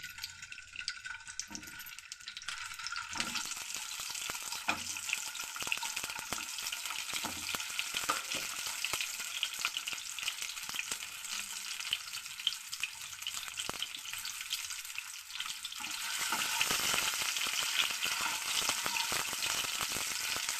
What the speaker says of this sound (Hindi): अब इसमें हम 2 चम्मच तेल देंगे और एक को थोड़ा सा फ्राई कर लेंगे